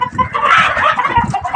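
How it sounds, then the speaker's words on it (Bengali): Egyptian Fayoumi chickens cluck loudly and close by in a brief, busy burst of overlapping calls with no voices. "মুরগিগুলো খুব ভালো আছে এবং সুন্দর আছে, সবল আছে।"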